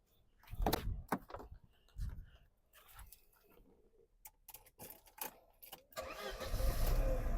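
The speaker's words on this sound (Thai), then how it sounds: "รถสตาร์ททีเดียวติดนะครับผม" A Mercedes-Benz E200 engine cranks and catches on the first try after a few clunks and clicks, then settles into a steady, rumbling idle nearby.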